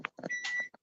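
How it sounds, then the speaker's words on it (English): An electronic timer beeps in a short steady tone, loud and close, with brief fragments of voices around it. "It's a timer."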